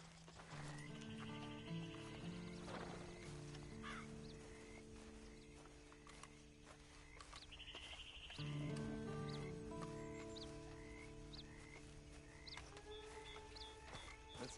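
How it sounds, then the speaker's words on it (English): Horse hooves clip-clopping in Red Dead Redemption 2, a steady mid-distance patter under a continuous game soundtrack with occasional animal calls, no speech. "Then you better get on this horse."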